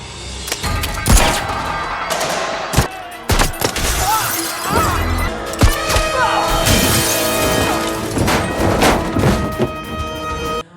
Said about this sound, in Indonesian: aksi baku tembak dan kejar-kejaran pun terjadi